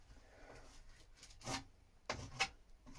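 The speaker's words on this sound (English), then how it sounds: "I'm going to scrape off that top. I don't want any build up sticking out the top." Excess filler being scraped off a boat repair, a few short, quiet rasping strokes with brief pauses between them, close by and with no talking.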